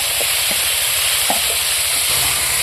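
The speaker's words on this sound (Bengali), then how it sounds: "ম্যারিনেট করা মাংসটা এখন কড়ার মধ্যে দিয়ে দেবো কড়ার মধ্যে দিয়ে দিলাম" Marinated village-style goat mutton hits a hot oiled kadai and sizzles in a loud, continuous hiss close by, with a few faint clinks of stirring underneath.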